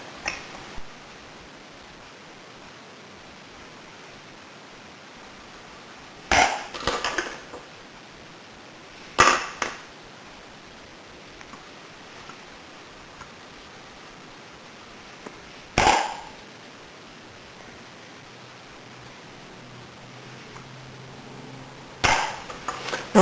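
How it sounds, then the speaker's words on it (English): Brass 7.62x54R cartridge cases clink and rattle together as they are mixed, in several short bursts spread apart over an otherwise quiet stretch. "Sound of brass mixing."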